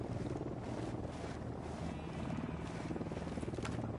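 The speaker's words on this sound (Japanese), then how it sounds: "またヘリ来てる？" Helicopter in the video game Ghost Recon Wildlands, a steady rotor throb and whir held at a constant level, faint and somewhat distant, with no other sounds standing out.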